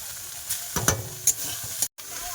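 Leafy greens frying in a pan with browned onion and garlic in a home kitchen, a steady close sizzle broken by a few sharp clinks of a stirring spoon, followed by a brief cutout.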